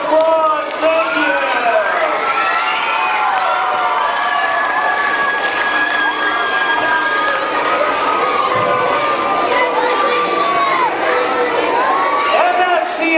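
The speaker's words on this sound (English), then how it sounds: "Give everybody a big round of applause." A crowd of elementary school children at an anti-bullying magic show, shouting, cheering and applauding in a loud, continuous roar of young voices that fills the room for over ten seconds, with scattered claps inside the din.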